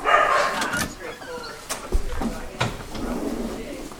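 A stray dog at a vet hospital barks a few times in short bursts close by, mixed with people talking and some handling noises.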